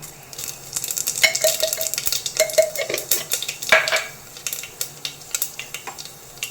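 Dried red chili, bay leaf and Bengali five-spice crackle and sizzle in hot oil while a spoon scrapes and clinks against the pan in repeated stirring strokes, close and fairly loud with no talking.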